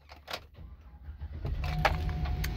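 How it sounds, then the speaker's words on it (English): Keys jangle and click near a Chevrolet Express conversion van built by Southern Comfort, then its engine catches and settles into a steady low idle that continues to the end. "take a step inside real quick and start up the vehicle"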